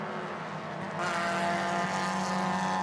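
Race cars in the Malaysia Championship Series MTC and SP2 classes circulate on a warm-up lap, a continuous engine roar that swells and grows louder about a second in, then holds steady.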